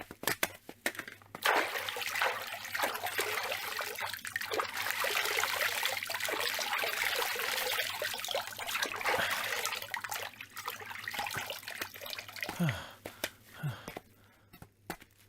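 Water from a stream runs steadily in a film scene, a loud continuous rush and trickle with brief splashes, fading near the end, where a few faint sounds break through.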